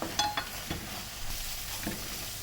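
Curry masala sautés in a hot pan for a chicken gravy, giving a steady close sizzle with a few scraping stirs of a spoon, and no voices.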